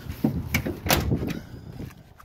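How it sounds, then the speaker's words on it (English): A car door pushed shut during hands-on work on the vehicle: a thudding close amid a rustling, rumbling bed of handling noise, fairly near and without speech. "Doors closed decent."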